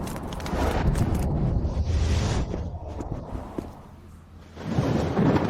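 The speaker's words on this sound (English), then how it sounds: "In this snowy weather, why is there thunder and lightning?" Deep, rolling thunder in snowy weather rumbles continuously with heavy low-end roar, easing briefly near the end before surging loud again; no voices.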